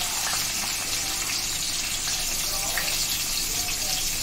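Cumin, onions and capsicum sizzling in hot oil in a pan, giving a steady, dense hiss and crackle that holds evenly throughout without pauses.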